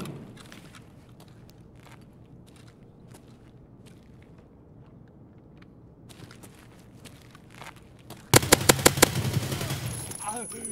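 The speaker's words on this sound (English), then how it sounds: "there's already somebody walking somewhere in front of me, and there's somebody else shooting down the hall" Escape from Tarkov match: a long quiet stretch of faint movement like distant footsteps, then a sudden loud burst of rapid automatic gunfire with several sharp shots near the end, echoing down a hallway.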